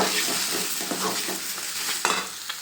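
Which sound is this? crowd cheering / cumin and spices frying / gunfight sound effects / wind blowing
cumin and spices frying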